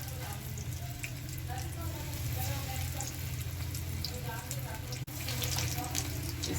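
Chicken vegetable cutlets coated in flour and breadcrumbs fry in hot oil in a frying pan. They give off a steady, soft, hissing sizzle at close range.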